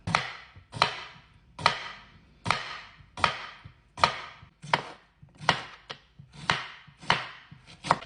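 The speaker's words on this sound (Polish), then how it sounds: "Więc zaczynamy sobie od pokrojenia jednego ogórka." A knife slices a cucumber on a cutting board, with about eleven crisp, evenly spaced chops over eight seconds, each a sharp knock with a brief tail. The chopping is close and alone, with no talk.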